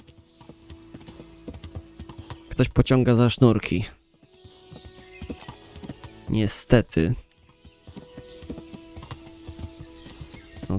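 Horse hooves clip-clop at a steady riding pace in the medieval game Kingdom Come: Deliverance, with someone talking over the hoofbeats in two bursts.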